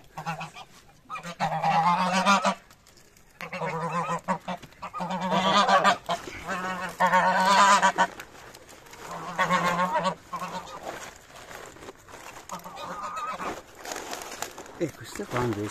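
Geese and ducks honk repeatedly in bursts, loud and close, with rustling and farmyard noise between calls, near a chicken coop.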